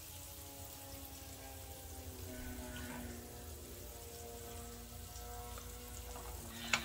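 Garlic butter fish frying in hot oil, a faint, steady sizzle and crackle that runs evenly throughout under a soft background hum.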